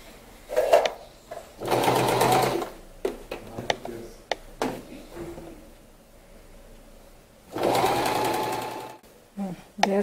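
A sewing machine stitches the hem of a pair of shorts in three quick, close bursts of rapid mechanical whirring. Short clicks and handling noises fill the quiet gaps between bursts.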